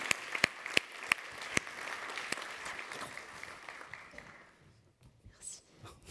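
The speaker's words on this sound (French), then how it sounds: "Allez, viens, on peut l'applaudir?" Audience at a DevFest Nantes 2022 conference talk applauds a volunteer: a few sharp claps ring out first, then a brief dense round of clapping that fades out after about four seconds, followed by faint murmuring.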